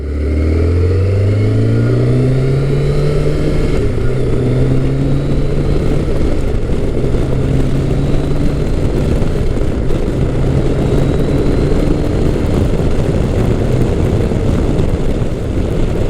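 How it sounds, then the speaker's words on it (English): A 1994 Kawasaki Concours ZG1000 motorcycle rides along a road, its engine droning steadily throughout with rising pitch through the gears, continuous wind rush over it, no talking. "I am currently test driving my 1994 Kawasaki Concours ZG1000"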